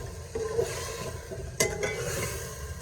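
Chicken stirred and fried with garlic in a pan for karela gosht, a steady close sizzle with scraping stir strokes and a sharper clink of utensil on metal partway through.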